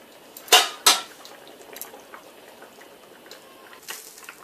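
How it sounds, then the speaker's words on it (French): Tamarind sauce with potatoes and turnips simmers in a pot, starting with two sharp metallic clinks of a utensil on the pot and then settling into soft, quiet bubbling without talk. "On voit que ça mijote bien"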